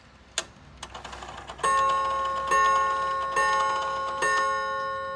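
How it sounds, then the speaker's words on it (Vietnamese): A repaired Seiko Sonola wall clock strikes its chime close up: ringing melodic bell tones that sustain and decay in several strikes after a few soft ticks, with no talking. "Cho mình thử chuông cho các bạn nghe thử ha."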